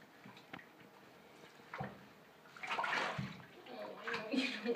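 Water sloshing and splashing in a baby's bath, with soft intermittent swishes that grow busier toward the end, while an adult speaks quietly nearby.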